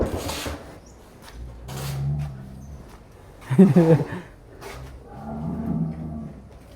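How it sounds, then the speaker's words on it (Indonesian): Large cattle on a farm give low moos and grunting calls, with one louder lowing call midway, amid intermittent knocks and shuffling sounds of the pen; fairly close and moderately loud. "Banyak sapi kembar di sini, guys."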